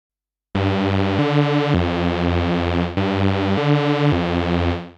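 A Moog synthesizer in unison mode with slightly detuned oscillators plays a thick, sustained bass-heavy tone that shifts pitch through a few held notes, rich and buzzy with a wide chorus-like shimmer.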